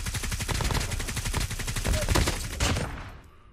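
Automatic gunfire from a weapon in the mobile shooter game Call of Duty Mobile, a loud, rapid, continuous stream of shots lasting about three seconds before trailing off, with no talk over it.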